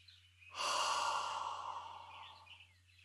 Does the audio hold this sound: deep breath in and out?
yes